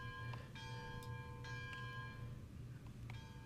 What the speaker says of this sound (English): The bell's still going on.